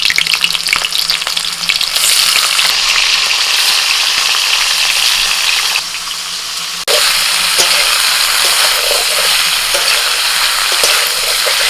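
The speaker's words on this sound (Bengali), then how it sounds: "ওই তেলের মধ্যে কপিও ভেজে নেবো হালকা করে" Cauliflower pieces fry in hot oil in a pan, a loud, continuous crackling sizzle that keeps going without a break, briefly dipping in level midway, with no voices.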